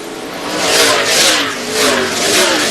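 Race car engines roar past on a racetrack, loud and close, rising and falling in sweeping waves as the cars accelerate by one after another.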